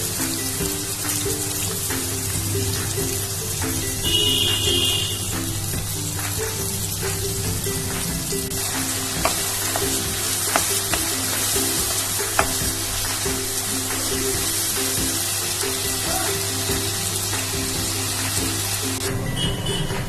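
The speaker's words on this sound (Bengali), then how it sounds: "এবার মৌরলা মাছগুলোকে তেলের মধ্যে দিয়ে দেব, দিয়ে মাছটাকে একদম হালকা করে ফ্রাই করব" Small mourala fish frying lightly in hot mustard oil, a loud, dense, continuous sizzle running unbroken for the whole stretch with occasional faint pops and utensil taps.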